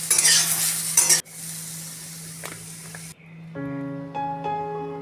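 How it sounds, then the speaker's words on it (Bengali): Pointed gourd frying in a little oil with salt gives a loud initial sizzle that drops to a softer, hissing crackle, broken by a couple of brief utensil clinks. "তেলটা কম দিয়ে একটু নুন দিয়ে পটলটা ভেজে নেবো"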